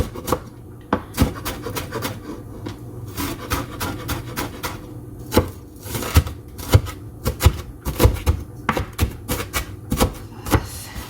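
Onions being chopped on a cutting board with a knife, a close, steady run of sharp irregular thuds and taps, alone.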